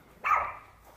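A dog in a yard lets out a single sharp bark, close and fairly loud, fading quickly into quiet.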